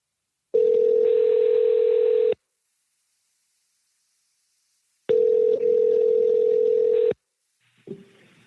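A telephone dial tone on an outgoing call sounds as a steady, loud, even tone, in two long bursts separated by silence, followed by a faint click.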